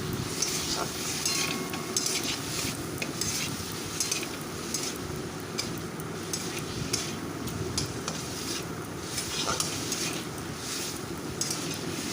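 Raw mango and turmeric frying in a pan for Bengali sour masoor dal, a steady broadband sizzle running throughout with occasional soft scrapes of a stirring utensil, close and moderately loud, no talking.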